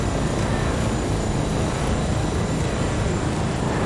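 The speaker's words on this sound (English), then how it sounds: "this chopper does not sound too good" A Fortnite helicopter drones loudly and continuously, its rotor and engine roar steady and close, with no voices over it.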